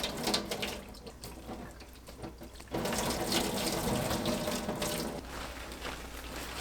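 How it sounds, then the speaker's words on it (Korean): Tofu is rinsed under a running kitchen tap, and the water splashes steadily close by. The flow surges louder partway through as hands move it under the stream. "두부를 찬물로 씻고 뜨거운 물로 헹궈냅니다"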